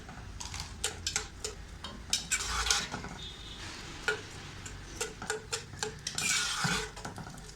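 Chopped onions sautéed over medium heat in a pan for turnip meat curry (shaljam gosht), heard mostly as a spatula clinking and scraping against the metal in irregular taps, with a soft background murmur of cooking and no speech.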